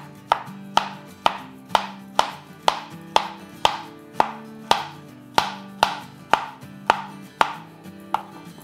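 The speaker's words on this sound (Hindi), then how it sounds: "और अब हम कुछ फ्रूट्स काट लेते हैं अपनी मर्ज़ी के।" Fruit being chopped on a board for a creamy fruit chaat: a steady series of about fifteen crisp knife strikes at an even, unhurried rhythm, close and clear with no talking.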